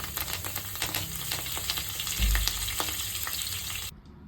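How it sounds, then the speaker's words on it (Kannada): Curry leaves sizzle loudly in hot oil for a tomato chutney tempering, a dense, continuous crackle and spatter close by that swells briefly when stirred, then cuts off abruptly near the end. "ಇವಾಗ ಕರ್ಬೇ ಸೊಪ್ಪು ಕೂಡ ಹಾಕ್ಬಿಡ್ತೀನಿ"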